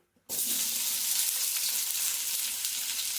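Tempering for tomato chutney hits hot oil with a sudden onset, then crackles and sizzles loudly and continuously up close after a brief quiet moment.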